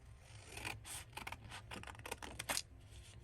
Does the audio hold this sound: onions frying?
no